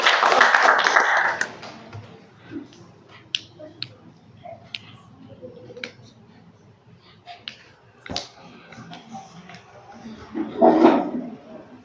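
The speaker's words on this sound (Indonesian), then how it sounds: "Tepuk tangan." Hand clapping in a classroom setting: a burst of clapping at the start and another near the end, with scattered sharp taps, snaps and faint background voices in between.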